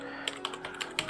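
Quick, soft keystrokes on a computer keyboard, a handful of close taps over about a second while a filename is typed into a terminal, with no talking.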